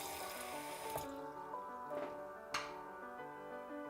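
Cold water runs steadily from a kitchen tap into a container as it is measured for sushi rice, with faint splashing and a few small clinks, quiet and close.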